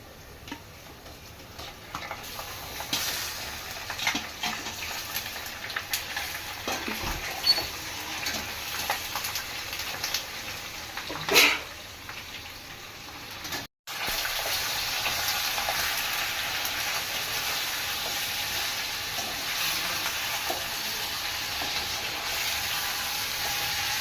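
Chicken pieces frying in a pan for a home-style chicken curry, a steady close sizzle with a few clinks and stirring bumps, briefly cut off midway before the hiss resumes louder.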